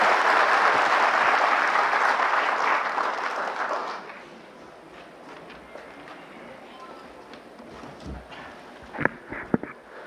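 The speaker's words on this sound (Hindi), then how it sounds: "एक बार ज़ोरदार तालियों से उनका स्वागत करें।" Loud applause from a conference audience at a CSC Aadhaar enrollment event swells for about four seconds, then drops away to room murmur with a few scattered thumps and claps afterward.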